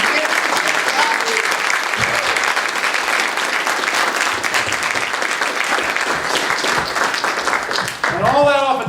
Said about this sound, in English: Let's give a great round of applause to Lance Miller for his speaker leadership.